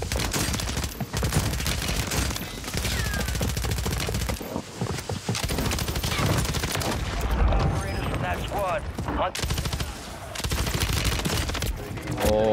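Video game gunfire from Call of Duty Warzone on Rebirth Island with an AMR9, dense bursts of rapid shots and fusillades in repeated volleys, loud and close, with talk and game voice lines mixed in.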